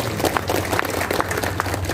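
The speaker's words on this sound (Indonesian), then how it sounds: "Tepuk tangan sekali lagi" Audience clapping at a Ramadan community gathering, a short, steady patter of many hands with a low hum underneath.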